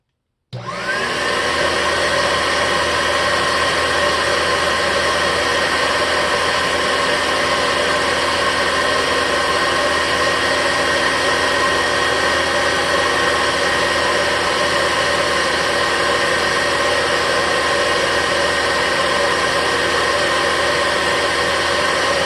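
An Oreck XL21 vacuum cleaner switches on and runs steadily on low speed with no bag fitted, giving a loud, unbroken whirring roar close by that holds for about twenty seconds.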